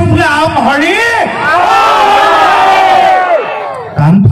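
A festival crowd at a Bhogali Bihu programme shouts together in loud, drawn-out unison cries that rise and hold for a few seconds before a fresh burst begins.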